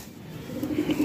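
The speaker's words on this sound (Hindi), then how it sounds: "ये जी एक और मुखी कबूतर है" A Mukhi pigeon among pigeons for sale gives a soft, short coo that rises near the end, faint and close against a quiet background hiss.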